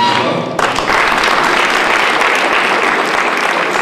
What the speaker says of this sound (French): Encore des applaudissements.